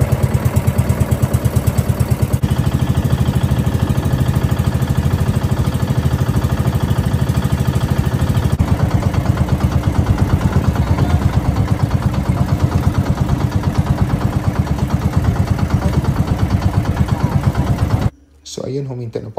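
A fishing boat engine runs loud and steady with a fast, even throb at sea, then cuts out abruptly near the end, leaving quieter rumble.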